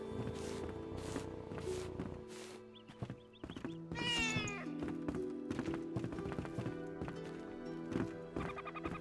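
A cat meows several times in the Enshrouded video game, with short mews amid clopping footsteps and game music, moderately quiet and with no speech.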